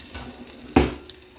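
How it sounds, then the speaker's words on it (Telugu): Tempering spices hit hot oil in a pan with one sudden loud sizzling burst that quickly fades into a softer crackle, with no talking. "కూడా పోపు వేస్తున్నా"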